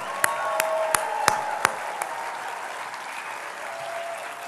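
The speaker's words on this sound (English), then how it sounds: "Let's give him a round of applause." An audience at a media conference applauds Bernie Sanders, steady dense clapping with a few sharp louder claps standing out near the start, continuing evenly throughout.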